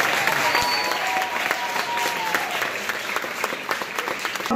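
Applause from a community audience honoring local heroes, steady and dense throughout, with crowd noise and some voices mixed into the clapping.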